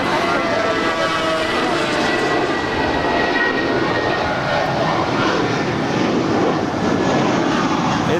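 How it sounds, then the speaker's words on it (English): An Airbus A321 airliner takes off at Los Angeles LAX airport, its jet engines producing a loud, broad roar that rumbles continuously throughout. "It's the A321."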